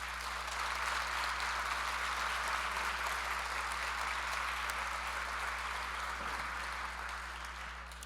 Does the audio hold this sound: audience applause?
yes